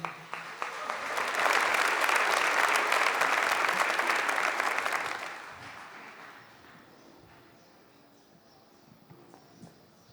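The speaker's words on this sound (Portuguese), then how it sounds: "Uma salva de palmas para você" Applause from an audience at a Catholic religious talk swells to a loud, dense peak for about five seconds, then fades away into quiet room tone.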